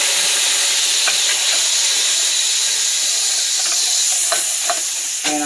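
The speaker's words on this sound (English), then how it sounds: "I'm going to go ahead and add in that rice wine vinegar to deglaze." Rice wine vinegar deglazing an overly hot pan for honey mustard chicken, a loud steady sizzle and hiss throughout with a few light scrapes of stirring near the end.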